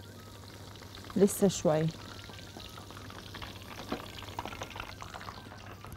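Tomatoes fry in a hot pan on a home stove while being stirred, a soft steady sizzle with a few brief scraping clatters early on, and a short spoken remark over it.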